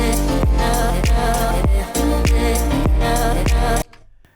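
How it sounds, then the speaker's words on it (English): Drum part from a full music track: a steady, loud pattern of punchy kick hits roughly every half second with bright cymbal wash, ending abruptly into near silence. "So the drums of the main track sound like this."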